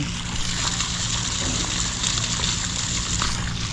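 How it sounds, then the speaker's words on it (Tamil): Abhishekam water from a hilltop Murugan temple at Palani flows down in a continuous close rush and splash, steady throughout with no talk. "இந்த அபிஷேகம் பண்ணுறாங்களா அந்த தண்ணி இங்கே வருது கீழே"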